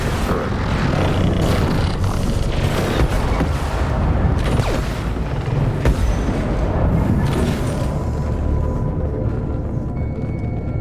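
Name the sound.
explosive detonation in video game Mass Effect 2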